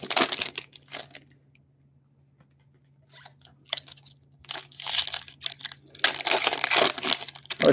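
Trading card packs being ripped open at close range, with bursts of crinkly foil tearing and crumpling separated by quiet pauses and a faint steady background hum.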